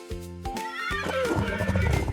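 A horse lets out one long, loud whinny close by, rising sharply and then breaking into a shaky, fluttering tail.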